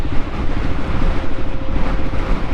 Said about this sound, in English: Whoa, this wind is crazy.